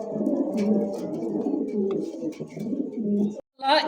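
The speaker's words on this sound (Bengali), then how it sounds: "এই মুহূর্তে দেখতে পাচ্ছেন গেরেবার একজোড়া লাহোরি কবুতর ডাকতেছে" A pair of Lahori pigeons coo in soft, repeated throaty rolls, close and steady, continuing almost without pause before a brief cut near the end.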